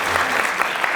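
Studio audience applause on a Korean talk show, a dense steady burst of clapping from a crowd filling the whole second without pause.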